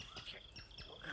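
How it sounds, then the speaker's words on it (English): Jungle birds and insects in a children's TV show, a brief bed of chirps, tweets and insect trills, with a voice faintly present underneath. "that's all the different birds and insects, Bungle."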